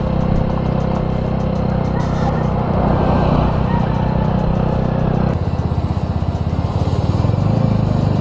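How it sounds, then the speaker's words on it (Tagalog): Heavy night road traffic of many cars and motorcycles on the way to Calauag in Quezon Province, a loud, continuous engine rumble and whoosh of passing vehicles with a deeper roar surging near the end. "Wow, ang daming sakyan ah."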